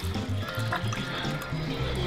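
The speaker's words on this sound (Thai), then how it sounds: "ตอนนี้ก็กดชักโครกน้ำลงเรียบร้อยแล้วนะครับ" A toilet drains after a flush, water gurgling and trickling down steadily, close and fairly quiet with no talk.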